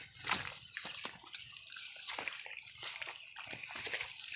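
Water runs and splashes quietly under a kalamansi tree, a continuous soft wash broken by small splatters, faint and somewhat distant.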